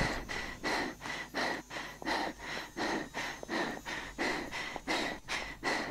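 Heavy, rhythmic panting from a character in the video game Dead Island, steady in-and-out breaths repeating about twice a second, close and loud throughout with no talking.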